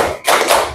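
Two quick hand claps, close and sharp, land back to back in a classroom counting exercise.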